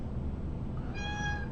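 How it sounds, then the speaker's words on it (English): A cat meows once near the end, a clear rising-and-falling cry over a steady background hum. "Oh, shush, bad cat."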